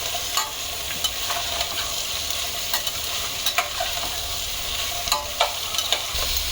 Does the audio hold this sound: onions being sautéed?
yes